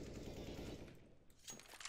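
Automatic gunfire in the video game CS:GO comes through as quiet, rapid bursts of shots, faint and somewhat muffled.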